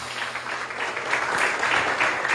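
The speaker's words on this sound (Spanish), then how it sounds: "Dele un fuerte aplauso al Señor" Steady applause from a church congregation during a sermon, dense and sustained throughout, with a faint murmur of voices underneath.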